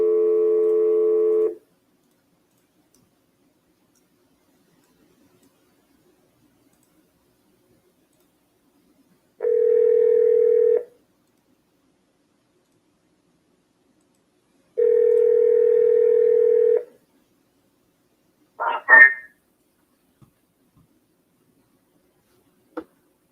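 A telephone dial tone sounds in three steady bursts separated by silence during cold calls, followed by a short burst of dialing tones and a faint click.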